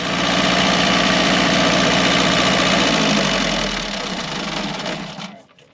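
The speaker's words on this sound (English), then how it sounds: "Generator's all running in order." A boat's generator engine runs close and loud, a dense, steady mechanical drone that eases off slightly toward the end before dropping away.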